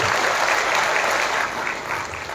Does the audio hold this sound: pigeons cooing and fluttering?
no